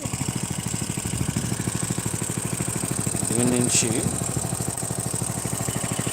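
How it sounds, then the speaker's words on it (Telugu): A small electric water pump runs steadily beside a paddy field, a mid-pitched motor hum with a continuous rhythmic clatter, close by and moderately loud, while someone talks over it. "ఈ మోటార్ చిన్న మోటార్ చూడటానికి చిన్న మోటార్ కానీ దీని పనితనం చాలా గొప్పది చాలా మంచిగా వాటర్ బాగా తోడుతున్నాం"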